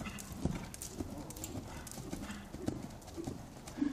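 Horse hooves trotting in a steady, even clip-clop rhythm at moderate distance, with faint background noise and little else.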